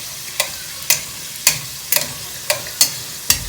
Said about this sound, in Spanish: bañarlas en aceite en un sartén grande